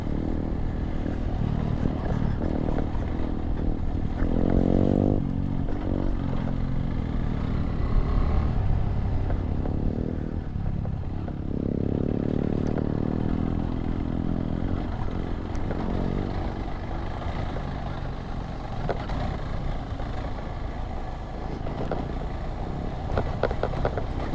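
A modified KTM 390 Adventure motorcycle ridden slowly along an off-road trail, its single-cylinder engine a steady close drone with low rumble, brief throttle swells and clattering over rough ground throughout.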